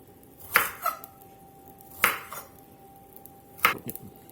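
Knife slicing through oven-roasted brisket on a bias, three distinct cutting strokes about a second and a half apart, each a crisp close thud with a short follow-up scrape, with quiet gaps between.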